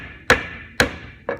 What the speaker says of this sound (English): then you can really kind of hammer away